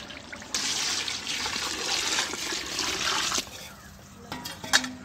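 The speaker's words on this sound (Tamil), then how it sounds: "இப்போ இந்த பிரியாணிக்கு தேவையான தண்ணியை நம்ம ஆட் பண்ணிடலாம்." Water pours and splashes into a cooking pot for mutton biryani, a steady gushing stream for a few seconds that then tapers into trickles and a couple of light clinks.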